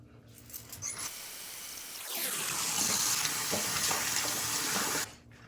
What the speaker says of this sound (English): So we're going to wash our face really quickly.